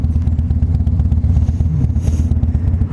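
A 2006 Harley-Davidson Softail Deuce rumbles loudly and steadily while being ridden, its deep engine throb close and continuous with some clatter and wind buffeting, and no speech.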